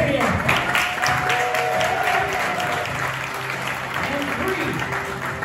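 Audience applause at a Frontier Town Follies Wild West show, a burst of clapping and crowd noise lasting about five seconds, with a performer's voice and other sounds mixed in.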